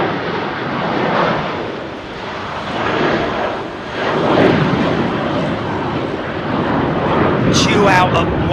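A Qatar Airways jet at a London airport gives off a loud, continuous engine roar that swells and eases slightly throughout, with voices nearby under the din.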